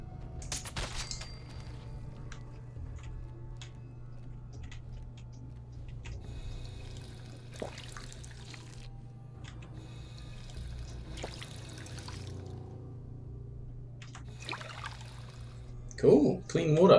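Water trickling and pouring while clean water is collected in the video game Fallout 4, soft and intermittent against a low steady hum, with short clicks and a louder burst near the end.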